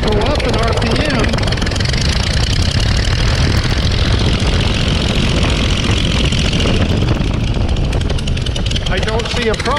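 A Verner 3V radial aircraft engine runs on a test mount with its RPM climbing, giving a loud, steady, rumbling drone with a shaky vibration that holds for the whole stretch while someone talks over it.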